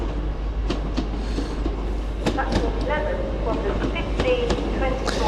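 An LNER Azuma train rolls through York station on the East Coast Main Line with a steady rumble, rhythmic wheel clacks and brief squeals, loud and close, with people talking faintly in the background.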